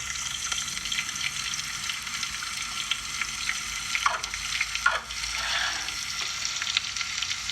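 Ingredients frying in a pan, a steady bright sizzle that holds throughout with a couple of brief stirring scrapes near the middle.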